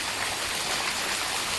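Heavy rain pouring outdoors beside a swollen river, a continuous loud broadband hiss with no voices.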